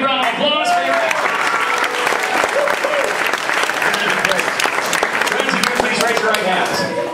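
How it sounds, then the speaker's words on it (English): A live studio-show audience at Universal Studios Orlando breaks into loud, dense applause that stays sustained and close for the whole stretch, with a few voices mixed in. "big round of applause for your answer"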